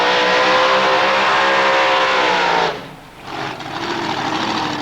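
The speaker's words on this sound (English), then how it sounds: "Farmer Vic's 57 Chevy has terrorised Australian drag strips for over a decade" Victor Bray's 1957 Chevrolet drag racing car, a farmer-driven Australian drag strip machine, roars at high revs in a loud, sustained engine wail that drops off sharply near the end, then picks back up more quietly.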